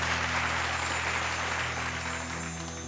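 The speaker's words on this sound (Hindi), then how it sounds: "जोरदार ताली" Loud, steady applause fills a stage during a Bhojpuri singing competition show, a dense crowd clapping continuously and tapering slightly toward the end, with no voices over it.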